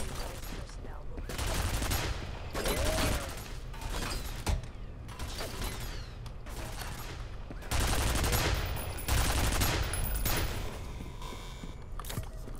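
Automated turrets firing in the F.E.A.R. shooter game, a dense, sustained loud barrage of gunfire with mechanical clatter running almost continuously, surging louder around the middle and later stretches.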